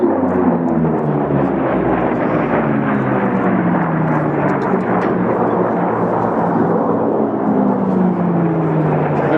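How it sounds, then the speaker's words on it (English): Two big Pratt & Whitney R-2800 radial-engine race planes roar past together at the 2008 Reno air races, a dense, loud, rumbling drone with shifting overtones that holds throughout with no speech. "That really is the two R2800s right together is a great sound."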